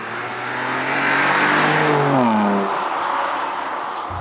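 A BMW M2 Competition's S55 engine revs through its exhaust, swelling to a loud, raspy peak and then falling away with a descending whine, with no voices present.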